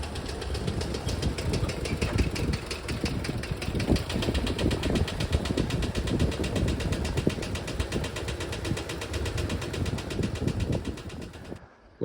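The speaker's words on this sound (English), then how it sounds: "It started running pretty good with this gas tank I put in there, and it still makes this knocking noise" A VW Double Cab's engine idles steadily up close, with a rapid, even knocking that runs through the idle and comes and goes over the whole stretch, loud and continuous until it cuts off at the end.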